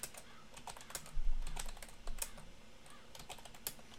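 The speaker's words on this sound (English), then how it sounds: "Just keep typing in bot." Rapid keystrokes on a computer keyboard as commands are entered into the Team Fortress 2 console, a steady run of close clicks with a few heavier key strikes, no voices.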